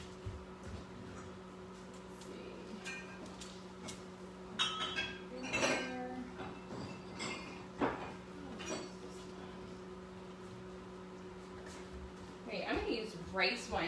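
Glass bottles of vinegar and oil handled in a kitchen, with scattered clinks and knocks of glass against surfaces amid light shuffling and faint background hum.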